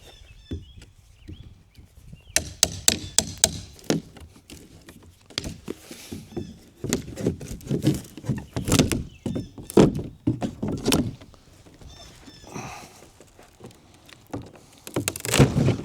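Cardboard top of a boxed Northern Tool tag-along trailer is torn off in a run of sharp ripping and crackling bursts, loud and close, with pauses between pulls.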